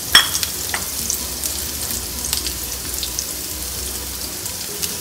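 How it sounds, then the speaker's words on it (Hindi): Julienned bell pepper and onion rings sauté in a pan with a steady, faint sizzle and occasional light stirring clatter, with no talking. "अब मैं इनको इसमें डाल के थोड़ा सा सॉटे कर लूँगी।"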